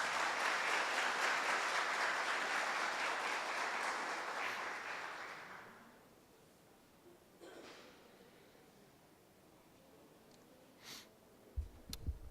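Audience applause as a tribute to Professor Pellerano Gómez at a lecture on constitutional jurisdiction, steady for about five seconds, then fading into quiet room noise with a few faint knocks and breaths.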